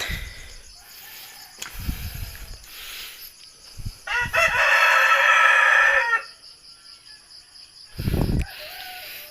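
Native chickens with chicks: a rooster crows loudly and clearly midway, with soft clucks and peeping scattered around it outdoors, insects faintly in the background.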